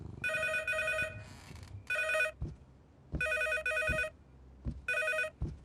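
A telephone bell rings in repeated electronic trilling bursts with short pauses between them, fairly close and clear, with soft thuds and movement in between.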